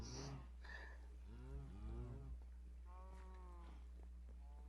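A Minecraft cow lets out a few low, drawn-out moos at moderate distance, each with a wavering, harmonic tone, over a steady low hum.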